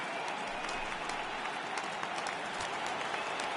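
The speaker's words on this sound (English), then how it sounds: "The crowd is ready to erupt as their guys get set to take the field." A stadium crowd at Wrigley Field in a PS4 baseball game, a continuous wash of cheering and applause, steady and moderately loud with scattered claps standing out, no voices over it.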